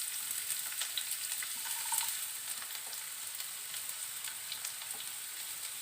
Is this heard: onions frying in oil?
yes